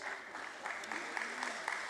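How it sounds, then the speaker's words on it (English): Faint applause rises from an audience at a closing bell ceremony at the Bombay Stock Exchange, with quick scattered claps heard at a distance and a voice mingling with them. "Let's once again give a huge round of applause to all of them"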